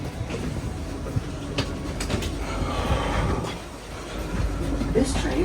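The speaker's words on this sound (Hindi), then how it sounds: "बढ़ गए दूसरी मेट्रो में, थेम्स लिंक एक्सप्रेस है ये।" Interior of a moving Thameslink Express train in London: low rumbling roll with rhythmic wheel clicks and occasional squeals, a steady onboard drone with faint background voices.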